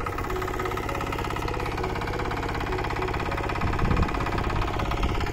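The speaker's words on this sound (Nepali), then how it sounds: "ट्र्याक्टर चाहिँ यस्तोमा फसेको है, जेल चाहिँ निकाल्दैछ" A stuck tractor's engine drones steadily up close while the machine is pulled out of mud, its chugging rumble swelling a little louder toward the end.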